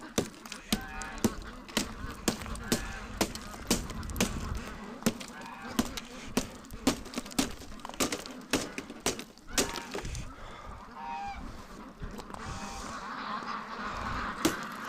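A large winter flock of over 600 free-range ducks honks and quacks continuously in cold, icy conditions, with sharp overlapping calls near and far and occasional cracking sounds.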